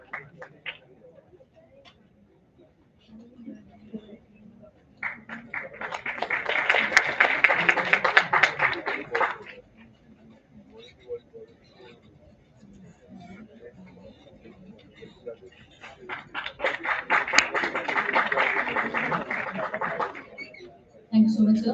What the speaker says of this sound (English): Let's have a huge round of applause for Dr. Ajay Kumar.